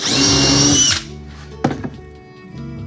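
A power drill drives a screw into a clamped jig with one loud, close, high-pitched whir lasting about a second, followed by a few quieter thunks and taps as the workpiece settles.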